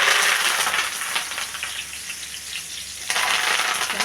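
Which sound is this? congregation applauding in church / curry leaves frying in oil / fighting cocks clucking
curry leaves frying in oil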